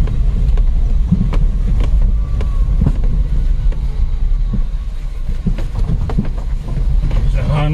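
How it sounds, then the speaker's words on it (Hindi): A Maruti Celerio car creeping in first gear along a slippery mountain road with cut-away, rock-strewn sections: a steady low engine rumble with bumps and rattles, close to the microphone, while someone talks over it. "फर्स्ट गियर में डाल के निकलती जा रही है, अपनी गाड़ी भी नए रिकॉर्ड बना रही है"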